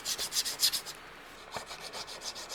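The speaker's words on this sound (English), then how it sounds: "we're filing the back of it down" Metal file rasping across the back of a handmade woven-wire tie pin, a quick run of close scraping strokes, a short pause, then a few lighter rubs, with no talk.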